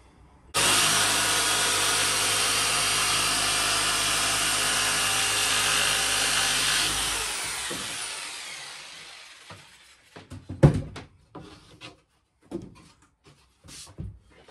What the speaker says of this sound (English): Then I can go around that with a jigsaw